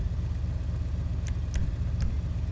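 LCC Avarus motorcycle in GTA V, a low steady engine rumble close by with a few quick gear-change clicks in the last second.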